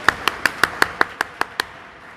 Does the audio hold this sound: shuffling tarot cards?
no